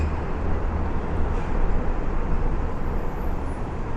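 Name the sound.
city street traffic noise on Atlantic Avenue, Brooklyn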